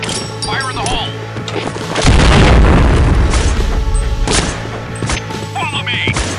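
A grenade goes off in the shooter game Point Blank with a loud, booming blast that decays over a couple of seconds, preceded by in-game voice callouts and a few chirpy effects.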